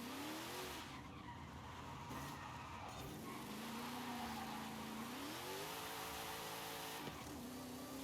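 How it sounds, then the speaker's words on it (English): A car in Forza Horizon 5 locks its tires under hard braking on a race lap, a long rising-and-falling tire squeal that runs over the steady engine drone, loud and close, with no voices. "Look at that, we just locked the tires right up"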